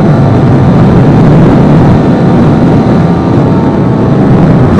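A Vespa P200e scooter with a 200cc two-stroke engine, rat-modded, riding along: a loud, steady engine drone with rushing wind noise, continuous and close, no voices.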